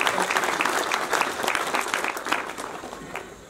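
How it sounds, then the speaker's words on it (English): A crowd at a polytechnic graduation ceremony claps and applauds steadily and fairly loudly, a dense wash of many hands throughout. "A big applause to Nyeri National Polytechnic."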